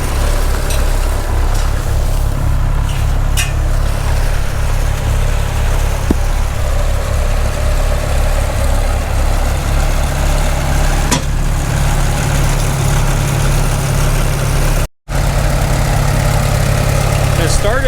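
A Farmall Super M tractor engine idles steadily out in the snow, a loud, close, even low thumping that runs throughout with only a brief dropout near the end.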